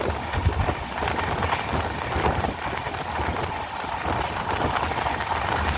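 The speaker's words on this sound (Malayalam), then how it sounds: "ചെറുതായിട്ട് മഴയൊക്കെ ചാറുന്നുണ്ട് ഇപ്പം." Light rain falls during an Island Express train journey in Kerala, a dense steady patter blended with wind buffeting and low rolling rumble, continuous and fairly loud.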